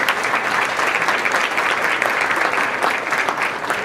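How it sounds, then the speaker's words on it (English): An audience at a California Hispanic Chambers of Commerce convention luncheon gives a round of applause, loud and sustained clapping from many hands that fills the room evenly for the whole stretch. "give yourself a round of applause"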